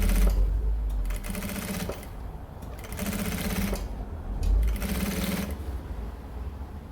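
A sewing machine stitches a seam close to the zipper teeth of a necessaire bag, running in three loud mechanical bursts of rapid needle chatter separated by short pauses.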